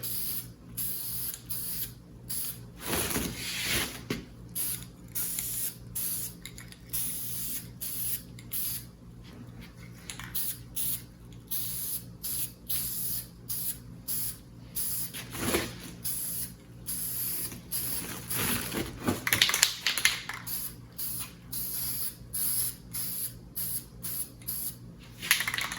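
Spray bursts laying a light coat onto beaver boards, short repeated hissing sprays at close range with brief pauses between, some longer passes standing out.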